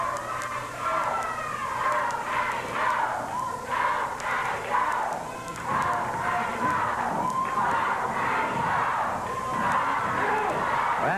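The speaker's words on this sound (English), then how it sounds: "You can hear quite a chant by the crowd" Wrestling crowd at a Frankie Lancaster vs Scotty the Body match chanting and yelling in rising and falling rhythmic waves, a loud, continuous roar filling the arena.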